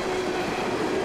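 Freight train led by two EMD SD70ACe locomotives on a BNSF run-through in northwest Georgia, heard as a steady, loud, continuous rumble with a sustained tonal drone and no pauses.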